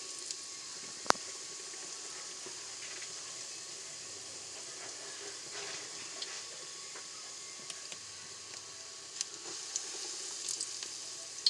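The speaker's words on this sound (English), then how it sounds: "see if we can get a fritter to fry" Fritter batter frying in hot oil in a home kitchen, a faint steady sizzle and crackle with a sharp click early on, quiet and without talk.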